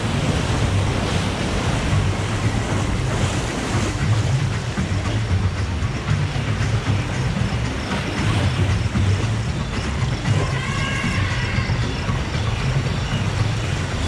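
Rapids raft ride at Walibi Holland amusement park, a steady loud roar of rushing water and wind buffeting the microphone that lasts throughout, with no clear voices.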